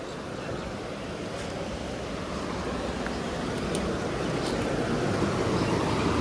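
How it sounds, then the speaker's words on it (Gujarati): Heavy rain pours down outdoors near a parked car in a steady, dense roar of hiss that stays loud and unbroken throughout, with no voices. "વરસાદ જામ્યો જ છે ફૂલ."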